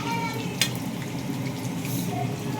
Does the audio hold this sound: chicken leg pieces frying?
yes